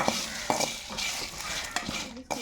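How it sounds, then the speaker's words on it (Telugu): Green chillies, torn by hand, fry in a pan while a spoon stirs them, giving a steady sizzle broken by several sharp metallic scrapes and clinks against the pan, close and fairly loud. "తుంచి తుంచి పెట్టిన మిర్చిని బాండిట్లో వేసేసుకుంటా వీటిని కానీ దూరంగా వేయించుకుంటా"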